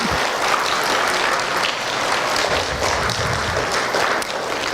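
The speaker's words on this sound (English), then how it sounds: "So students, give your parents and learning coaches a round of applause." Sustained applause from a graduation commencement audience, clapping for parents and learning coaches; steady, dense crowd clapping that continues loud throughout.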